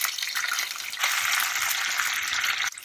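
About 100 ml of water hits hot oil with green chilies with a loud, steady hiss and crackle, a continuous sizzling that holds for a few seconds and then eases off.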